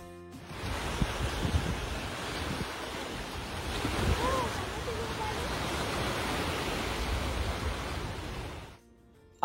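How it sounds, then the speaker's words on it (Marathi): Lake waves wash steadily onto the shore at Burlington, Ontario, in Canada, forming a continuous, close, broadband rush with a windy edge that stays even for several seconds before fading. "जेव्हा अशा लाटा आपल्या पायाला येऊन लागतात"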